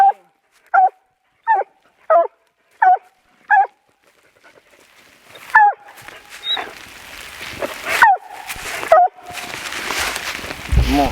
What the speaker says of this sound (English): By the bark of the dog.